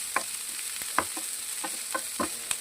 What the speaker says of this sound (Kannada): ಈಗ ಇದಕ್ಕೆ ಮತ್ತೆ ನಾನು ಈರುಳ್ಳಿನ ಹಾಕ್ಕೊಳ್ತಾ ಇದ್ದೀನಿ, ಕಟ್ ಮಾಡಿ ಇಟ್ಕೊಂಡಿರೋದು. ಇದೊಂದು ಸ್ವಲ್ಪ ಫ್ರೈ ಮಾಡ್ತಾ ಇದ್ದೀನಿ.